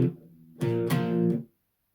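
Two downward strums on the 5th and 4th guitar strings, a power chord shape, one quieter stroke then a louder one ringing briefly before stopping, close and alone.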